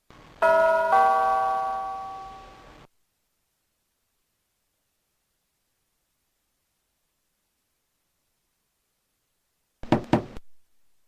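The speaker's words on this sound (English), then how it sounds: "Can I just use the door knocker?" In the Lost Files of Sherlock Holmes game, a door bell pull rings a resonant chime that decays over a couple of seconds, then after a long silence a door knocker raps a few sharp, close strikes.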